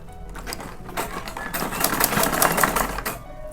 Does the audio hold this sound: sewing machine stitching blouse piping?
yes